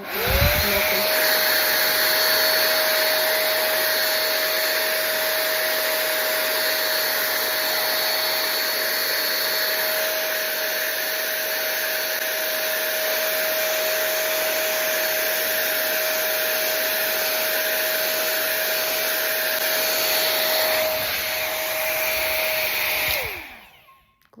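A Dyson-style hair dryer blows steadily for over twenty seconds with a constant whining motor tone and airy rush, then switches off at the end.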